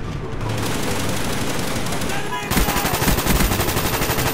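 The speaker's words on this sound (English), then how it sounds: "I just shot this man about 20-something times" Rapid automatic gunfire from a video game shooter, loud and continuous, with a denser, heavier burst of shots in the last couple of seconds.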